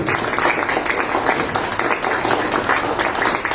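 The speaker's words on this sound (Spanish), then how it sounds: "les doy un fuerte aplauso a nombre de todo el partido" Dense, sustained applause from an audience at an evening event presenting the books "El Terrorista" and "Antología de Luis Alberto Sánchez", a steady wash of many hands clapping at close range for the whole stretch.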